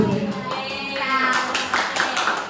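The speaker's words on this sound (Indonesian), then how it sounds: "Sebelum saya menjawab pertanyaan Bu Emi, saya mau nagih tepuk salutnya lagi dulu." An audience at a school training session claps a short rhythmic salute together, the hand claps quick and fairly close, with a faint tonal hum underneath.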